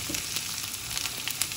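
A finely chopped large onion dropped into hot oil for mushroom masala gives a steady, close sizzle with crackling pops throughout.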